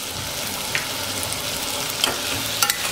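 Fried potatoes being tossed with salt and black pepper in a pan for sabudana khichdi, a steady broadband sizzle under a few sharp scrapes and clicks of a spoon against the pan.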